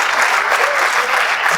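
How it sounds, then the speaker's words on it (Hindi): An audience at a training event breaks into loud, sustained applause to welcome a speaker, a dense, even wash of clapping that holds for the whole stretch. "पहले तालियां बजा के वेलकम तो कर लो"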